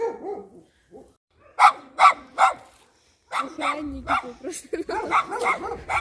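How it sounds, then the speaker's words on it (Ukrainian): Several sharp dog barks from village dogs in a quick burst, then more barking mixed with a person talking nearby, moderately loud. "Всі собаки гав, гавчать, знаєте, спокійно не пройдеш"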